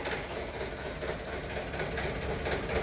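Car engine idling with the brake booster hose pulled off, giving a steady, loud hiss of sucked air that runs continuously without a break.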